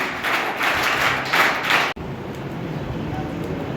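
An audience at a college scouting and guiding training event claps after a presentation, a close, steady round of applause that stops abruptly midway, leaving a low room hum.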